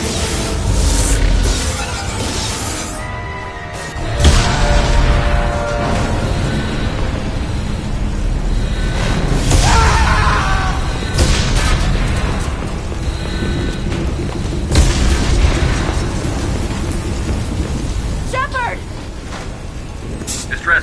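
Heavy explosions and crashing impacts rock a starship under attack in Mass Effect 2, booming at intervals beneath urgent shouted voices and alarm-like tones.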